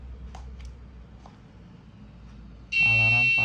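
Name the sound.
Arduino parking alarm buzzer sounding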